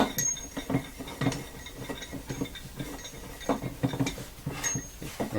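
A threaded rod is screwed into a nut on a Moxon vice, producing a series of small metallic clinks and scraping ticks in an uneven rhythm, close and fairly quiet.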